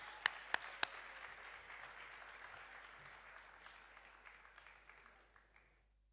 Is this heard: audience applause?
yes